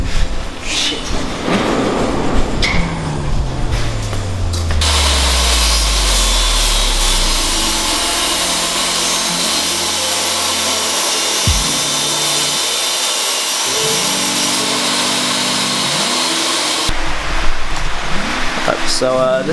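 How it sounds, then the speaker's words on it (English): A bandsaw cutting timber in a garage workshop, loud continuous high whine with motor running up and down, brief pauses between cuts, close and dominating, with speech mixed in. "we're on the bandsaw now, just swearing out our timber"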